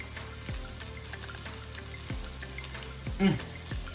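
Lamb stew pieces sear in a hot pan, a steady close sizzle and crackle with soft thumps as more pieces are added, no talk over it.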